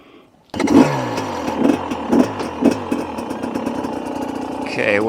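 An engine starts abruptly after a moment of quiet, then idles with a loud, uneven throb and occasional revs, heard close at a desert camp just before a short drive.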